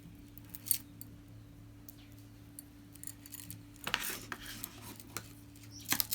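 Beading thread for a braided seed bead choker being cut, a few soft, crisp snips spread through a quiet stretch with faint handling noise, close and with no talking.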